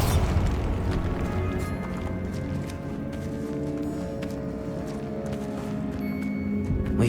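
The Bombarda blasting spell in Hogwarts Legacy sets off a heavy booming explosion at the start, followed by a dense, rumbling, crackling wash of debris and game sound that stays loud throughout.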